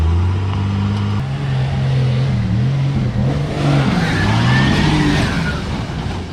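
A 24-valve 5.9L Cummins diesel pickup truck revs and pulls away, a deep throbbing engine note climbing and dipping through shifts, loud and nearby, with no talking.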